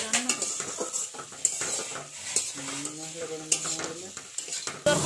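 Mixed vegetable rice cooks in a pot and is stirred, with repeated close scrapes and clinks of a utensil against metal over a light sizzle, steady and busy from start to finish.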